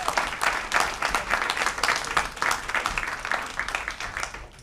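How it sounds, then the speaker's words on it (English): A panel audience at the Lipman Center breaks into steady, dense applause for the guests. Many hands clap at once, filling the room evenly from start to finish. "I would just love to give a round of applause for our great guests"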